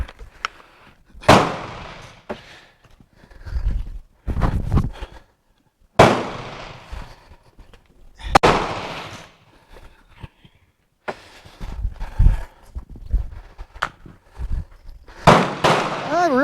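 Several loud, close shots from a Bren MK2 ring out one by one with gaps between them, each sharp crack followed by a short echo, and a voice can be heard between the shots.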